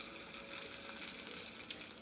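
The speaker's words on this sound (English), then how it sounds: "For the eggs, I just like, I butter the pan too." Butter sizzles in a pan before eggs go in, a steady soft frying hiss with faint crackles throughout.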